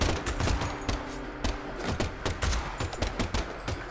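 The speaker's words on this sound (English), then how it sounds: "then she'd probably be able to survive gunshots. I wonder if that's what that was" Rapid gunshots in the video game Deadly Premonition 2, a dense burst of sharp cracks firing in quick succession, loud and close with no speech.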